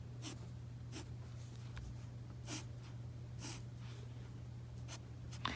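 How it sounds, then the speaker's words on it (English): A fine-point marker drawing plant stems on paper, a series of short, light scratchy strokes repeating at irregular intervals, close and soft over a steady low hum, with no speech. "I'm going to use the fine point of my marker and just draw"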